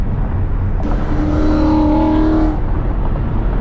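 A Ford Mustang S550 with a Whipple supercharger, Corsa Performance exhaust and 6-speed roars past with a loud, throaty exhaust, rising and falling as it goes by over steady road noise.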